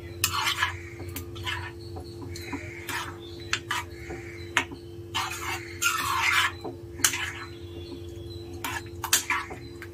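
Bisi bele bath masala being stirred in a pot, a string of scraping and clattering strokes against the metal at irregular intervals over a steady low background hum.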